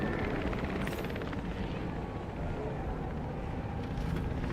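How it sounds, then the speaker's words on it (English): A helicopter in the video game Jurassic World Evolution 3 gives a steady, dense rotor drone and engine rumble that runs continuously at moderate level, with no pauses. "I've had to have a helicopter keeping an eye on them"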